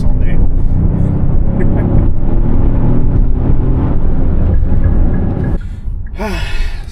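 Genesis GV70 with a 3.5-liter V6 rumbling under hard acceleration from inside the cabin, a loud deep growl that fades near the end as a voice exclaims over it.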